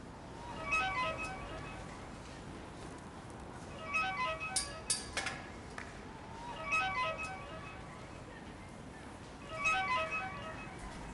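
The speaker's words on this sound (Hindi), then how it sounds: "किसका मोबाइल यहाँ रह गया है? सुबह से अब तक 10 बार बज चुका होगा।" A mobile phone left behind rings over and over with a repeating melodic tone, its bursts spaced a few seconds apart and sounding faint and somewhat distant in a quiet room.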